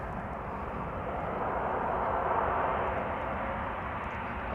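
A two-year-old KLM Embraer E2 jet arriving from Newcastle onto Polderbaan at Amsterdam Schiphol gives a steady, moderate engine roar that swells slightly mid-way.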